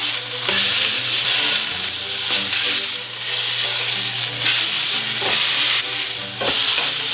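A maple pork shoulder roast sears on its sides in a hot pan, with a loud continuous sizzle close by and periodic scrapes and shifts as the meat is turned.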